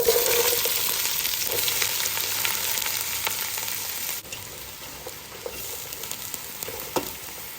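Onions frying in a pan with salt for cutlet masala, a steady close crackling sizzle with occasional stirring scrapes, fading slightly partway through.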